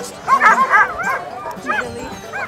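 A sled dog yips, whimpers and gives short barks at a dog sled kennel, a cluster of high whiny calls up close followed by a few softer whimpers.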